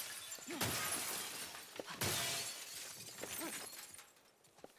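Armored glass shattering in The Last of Us, two sharp bright crashes about a second and a half apart, each trailing into tinkling fragments, with smaller clinks after and no talking.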